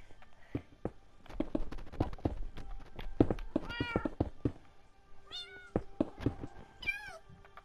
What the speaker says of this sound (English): there's a baby cat